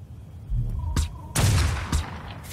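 Sniper rifle shots in an online video game fire as two or three sharp, booming reports about half a second apart, loud and close over a low rumbling game background.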